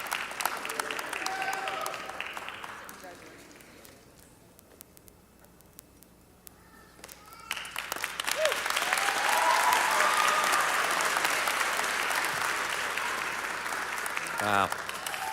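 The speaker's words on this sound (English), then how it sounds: "let's have another round of applause for our pastry arts" Audience applause at a culinary school commencement for pastry arts graduates, clapping at first, fading low mid-way, then swelling into sustained loud applause with a voice over it at the start.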